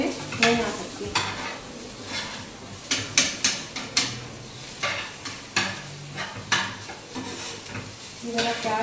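Onions browning in a pan sizzle steadily while a spoon scrapes and clatters against the metal in irregular bursts, with occasional soft knocks of utensils nearby.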